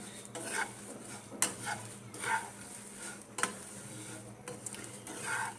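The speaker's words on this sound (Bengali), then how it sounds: "এই চিড়েটাকে হালকা করে মানে শুকনো খোলাতে আগে নাড়িয়ে নিতে হবে" Flattened rice (chira) is stirred in a dry pan, with a utensil scraping and rattling in irregular strokes and a few sharper clinks against the pan; the sound is quiet and close, with no talk.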